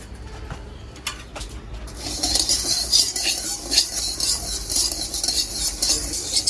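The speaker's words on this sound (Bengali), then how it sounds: "সবগুলো চাল ভেজে নিব।" Rice grains roasting in a pan while being stirred, a dry scraping and sizzling rustle that starts softly and grows busier and louder after a couple of seconds, with steady gritty scratching throughout.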